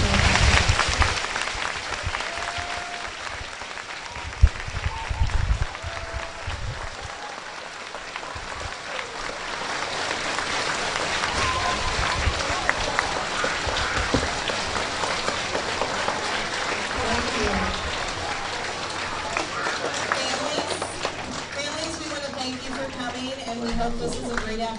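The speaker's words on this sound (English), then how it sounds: "Let's give them a round of applause." A school assembly crowd applauding for veterans, a broad, steady roar of many hands clapping that continues for over twenty seconds, with a voice talking over the start and a few brief voices near the end.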